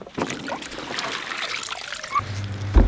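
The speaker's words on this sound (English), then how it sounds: "We'll dump all the water out of there." Dirty wash water, muddy from freshly harvested field beans, is dumped out of a container, giving a steady trickling, splashing pour that ends with a heavier low slosh and thud.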